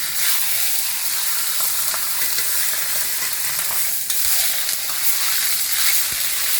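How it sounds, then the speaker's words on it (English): Beef browns in a preheated cast iron skillet for a braised brisket, giving a loud, continuous close sizzle and hiss with occasional stirring scrapes and no voices. "We're going to brown our beef in here."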